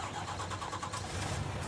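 Truck engine starting in Farming Simulator 19, a cranking churn that catches into a steady mid-pitched idle, close and moderately loud with no other sounds.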